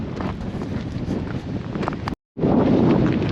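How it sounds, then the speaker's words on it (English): Strong wind in the Las Vegas desert buffets the microphone in loud, rumbling gusts, with a brief cut to silence before the roar returns even stronger. "It's windy, I apologize, you can't hear me too well."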